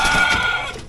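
Young black Aseel chickens, about two months old, cluck and call nearby in a short, loud, close burst of clucking.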